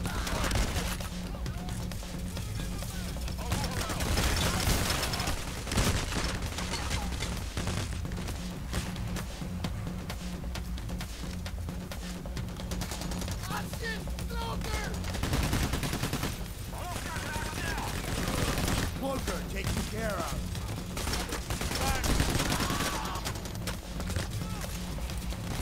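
Gunfire in the bank-robbery video game PayDay The Heist, with dense continuous bursts of automatic and single shots packed into a steady loud battle din that runs throughout, and a voice occasionally underneath.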